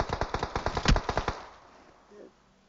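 Automatic gunfire in the PUBG video game, a rapid burst of about a dozen sharp close shots that stops suddenly, followed by faint quiet game sounds.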